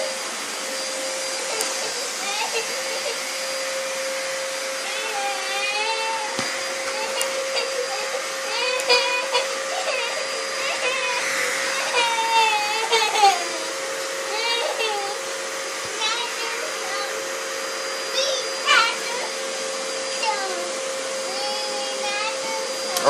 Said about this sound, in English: Do some more vacuuming, little dude.